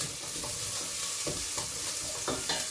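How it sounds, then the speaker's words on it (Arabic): Vegetables sizzle steadily in hot oil for an Indian veal curry with vegetables, with a spoon stirring and scraping the pan in several soft strokes over a constant frying hiss. "ونبدا نقلي فيهم هكذا."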